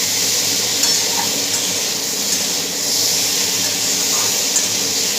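Potatoes and bitter gourd sautéing in a pan give a steady, close hiss and sizzle that stays even throughout, with no voices.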